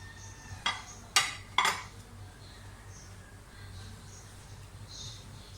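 Chopped capsicum, cabbage and carrot are dropped into a bowl of shredded chicken, giving three sharp clinks and clatters of utensil against bowl, close and fairly quiet over a low background hum.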